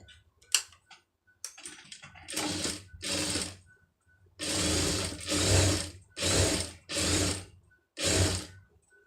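A sewing machine stitches a puff sleeve in repeated bursts of fast mechanical whirring, about six runs of varying length separated by short pauses, close and clear.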